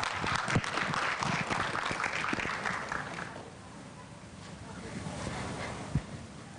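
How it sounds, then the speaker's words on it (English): An audience applauds at a livestreamed panel event, dense clapping that is loud at first and then thins and fades to a scattered few claps, with some speech mixed in. "So please give them a big applause."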